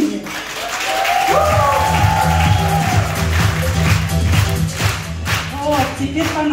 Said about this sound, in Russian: А дайте сильнее аплодисменты вам.